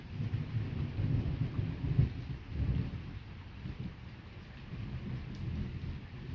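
A strong nocturnal electrical thunderstorm in August gives a low rolling thunder rumble that swells and fades several times over a steady hiss of rain, with no voices.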